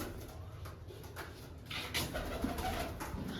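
Pigeons kept in a loft coo softly and faintly, a few low murmurs over a quiet background hiss, with no voices.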